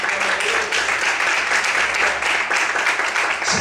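A church congregation claps steadily in sustained applause, a dense, even patter of many hands filling the room, with faint voices underneath.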